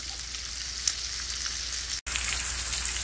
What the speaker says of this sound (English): Now we're gonna let it sear 5 minutes on the other side